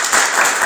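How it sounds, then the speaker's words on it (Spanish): A church congregation gives a short burst of loud, dense applause, many hands clapping together in a brief, continuous wash. "¿Por qué no le damos un fuerte aplauso, hermanos?"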